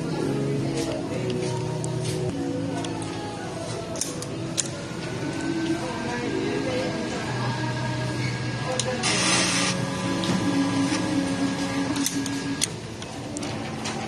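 A sublimation printer whirs and clatters mechanically through a long head-cleaning cycle, with motor hum, ticks and a brief spraying hiss while a person talks over it.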